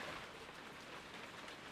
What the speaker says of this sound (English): That night, the rain poured down